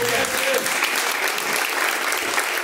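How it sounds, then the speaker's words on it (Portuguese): A church congregation at a live service claps in praise of God, a dense, steady wash of applause filling the whole stretch without a break. "Ali, palmas que louvam e engrandecem a Deus"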